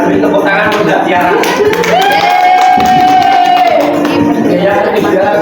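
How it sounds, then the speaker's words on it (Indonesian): Classroom applause for a student during a microteaching lesson, brisk clapping from a small group mixed with voices and a brief sung or called-out tone. "Beri tepuk tangan untuk Mbak Tiara."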